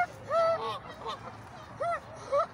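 Geese honking in short bursts at a zoo as they confront swans, several loud calls spaced apart over a steady outdoor background.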